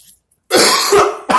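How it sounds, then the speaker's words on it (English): A single harsh, raspy cough bursts out close and loud, followed by a brief second hack, with no talking over it. "That's that grandpappy cough."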